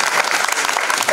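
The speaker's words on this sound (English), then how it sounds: "Yes, clap for Juliet Hagopin." A film festival audience applauds Juliet Hagopin, a brief burst of dense, even clapping close by with no pauses.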